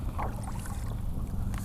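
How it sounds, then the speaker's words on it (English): A stand up paddle board paddled backwards on shallow flats, with a soft wash of water and low rumbling wind noise. "To retrieve your anchor, you paddle backwards, obviously."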